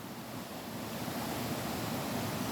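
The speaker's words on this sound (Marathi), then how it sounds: "आवाज येतोय पाण्याचा." A steady, broadband rush of flowing stream water on a rural morning walk, continuous and moderately loud throughout with no voices over it.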